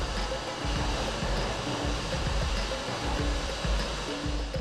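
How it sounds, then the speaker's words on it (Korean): Maximum typhoon-scale waves churn through a wave tank and break against a concrete artificial reef, producing a dense, continuous rushing wash with rolling surges and no speech. "50년간 태풍의 통계치로 최대 파도를 만들어 인공어초가 견디는지를 살펴본다."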